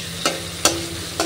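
Panch phoron spices fry in hot oil with a steady sizzle, broken by three sharp stirring scrapes at regular intervals, and no talk.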